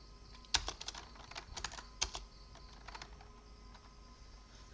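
Quiet keystrokes on a computer keyboard while entering Linux terminal commands, a few sharp clicks in an irregular burst, then softer scattered taps, close and faint.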